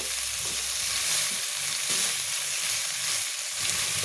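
Leftover chicken hits a hot frying pan already cooking garlic, ginger and onion for a chicken and banana heart coconut milk stew, sizzling loudly and steadily throughout with a few stirring scrapes.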